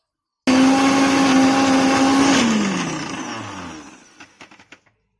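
A mixer grinder churning a paste of tamarind, sesame and coconut runs at a loud steady whine, then is switched off and winds down. A few light knocks follow as the blades stop.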